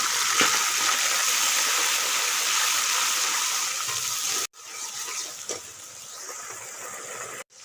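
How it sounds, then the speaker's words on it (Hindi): Half a cup of water goes into onion masala frying in a pan, setting off a loud splashing hiss that cuts off abruptly twice and then resumes. "हाफ कप पानी इसलिए डालेंगे कि प्याज का जो कलर है वो प्याज से अलग हो जाए और मसाले में शामिल हो जाए।"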